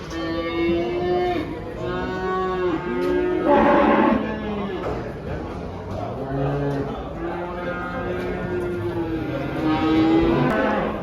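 Cattle moo repeatedly at a busy livestock market where cows with calves are sold, a steady series of loud, close lowing calls mixed with background crowd noise and voices.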